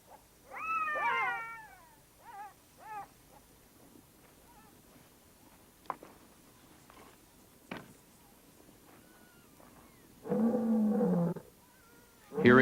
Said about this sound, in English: Hearing the deep-throated growl of a lion told us some animal was about to meet its death.